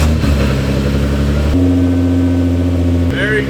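Nissan GTR engine idling loudly up close, a deep steady drone whose pitch steps up briefly as the revs rise, then settles back, with a voice speaking over it.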